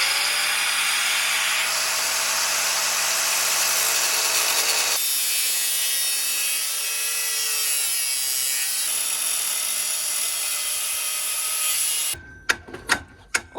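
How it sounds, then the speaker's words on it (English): Cutoff wheel grinds through the tailpipe of a Jeep JL in a steady, loud, high-pitched whine that shifts tone as it bites, ending with a few sharp clanks. "I'm just gonna go balls to the wall and use a cutoff wheel."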